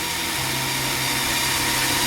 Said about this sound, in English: You're still drilling out your manifold, huh?